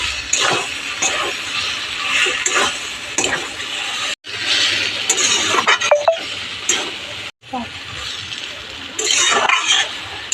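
Cabbage and soybean curry with ghee and garam masala is stirred in a hot pan, a continuous sizzle broken by metal spoon clinks and scrapes, close and fairly loud with two brief silent breaks.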